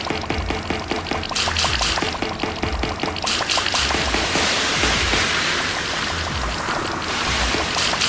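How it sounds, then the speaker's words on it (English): Water gurgles and pours through a sewer in a video game, a steady churning stream with bubbling bursts and rhythmic splashing, fairly loud and continuous with no voices. "There's a little gurgle right before."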